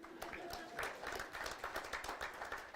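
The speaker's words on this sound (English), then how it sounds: "You can clap, it's okay." A college signing-day audience claps in a quiet, scattered burst after a nursing program ranking is announced, individual claps audible at a moderate distance.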